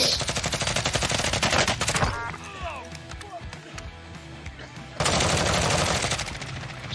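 Loud sustained automatic gunfire in Call of Duty: Warzone, heavy bursts at the start and again near the end with a quieter stretch of scattered shots between, and a voice speaking over the action.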